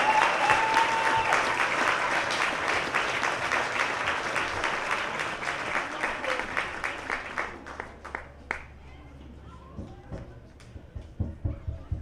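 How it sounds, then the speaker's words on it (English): A crowd at a baseball state tournament applauds steadily, a dense wash of clapping that thins out toward the end into scattered individual claps. "One more big round of applause for this year's"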